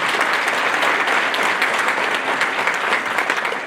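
Conference audience at a traditional grains event applauding, a dense, steady wash of many hands clapping from the hall, loud and sustained throughout with no talk over it.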